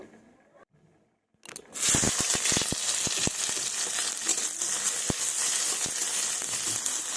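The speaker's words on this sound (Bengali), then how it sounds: "সরিষার তেল গরম হয়ে গেছে, এবার পেঁয়াজ কুচি দিয়ে দিব।" Chopped onion hits hot mustard oil in a kadai with a sudden loud sizzle after near-silence, then a steady crackling hiss with scattered sharp pops and spatters continuing throughout.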